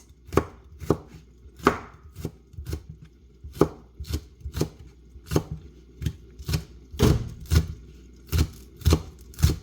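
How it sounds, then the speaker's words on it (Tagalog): Spring onion being sliced thinly with a knife on a board, a steady rhythm of crisp, close chopping strokes repeating about twice a second with no talking. "Tapos, ito yung ating spring onion. Hiwain natin ng maninipis."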